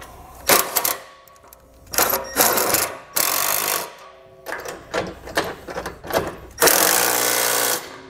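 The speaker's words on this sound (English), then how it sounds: "we're gonna go ahead and snug these up. This is a 3/4 inch socket. And you're gonna tighten up all three on both sides." Ratchet clicking in quick bursts as a 3/4 inch socket snugs Curt trailer hitch bolts on a 2023 Chevrolet Equinox, loud and close in several separate runs with pauses between.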